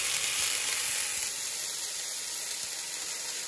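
Kimchi fries in oil in a home frying pan, giving a loud, continuous close-up sizzle and hiss that holds steady throughout with no talking.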